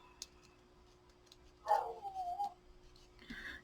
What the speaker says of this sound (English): It's my dog being nuts to the cows.